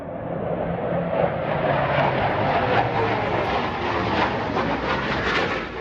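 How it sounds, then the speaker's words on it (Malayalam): An Indian Air Force plane flies fast past, parallel to onlookers in a hilly area, with a continuous loud jet roar that holds steady for several seconds. "ഞങ്ങൾ നിൽക്കുന്നതിന് സമാന്തരമായി എയർഫോഴ്സിന്റെ ഒരു വിമാനം അതിവേഗം പറന്നു പോകുന്നു."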